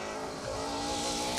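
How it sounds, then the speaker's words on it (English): A Ford Mark II Escort rally car, Strasser Porsche-engined, screams past on the rev limiter while sliding sideways on a forest stage, its high, buzzing engine note heard at some distance. "on the limiter past us, nicely sideways in that Strasser Porsche Mark II Escort"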